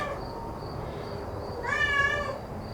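A cat lets out a single short meow close by against a quiet indoor background hum, with no speech.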